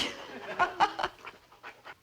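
A dog pants close by in a classic family sitcom scene. Several quick, breathy bursts come in an uneven rhythm, and it is heard on its own.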